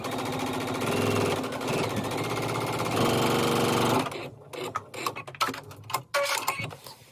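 A sewing machine top stitching a quilt block runs in a steady close whir for about four seconds, then gives way to fabric handling noises and short bursts.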